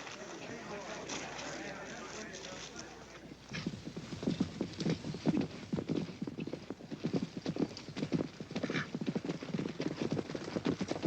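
Horses' hooves clip-clop in a 1956 western film, starting after a few seconds of quieter sound into a loud, close, rapid and continuous beat, with voices speaking over it.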